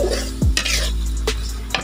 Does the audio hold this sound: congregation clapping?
no